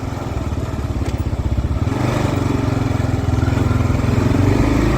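A Kawasaki KLR 650 single-cylinder motorcycle on the move, its engine a loud, close, steady thumping drone that rises slightly in pitch and intensity as it pulls, with no voices.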